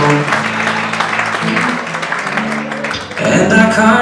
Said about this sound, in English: let's get the applause and cheers going right now